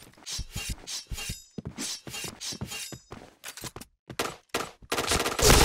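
Rapid bursts of T77 rifle fire in a PC shooter game, sharp repeated cracks in several quick strings separated by short pauses, ending in a denser volley.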